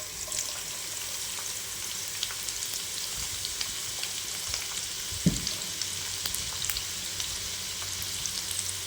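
A steady, crackling sizzle of onions frying in hot oil, continuous and close, with a brief soft clunk partway through.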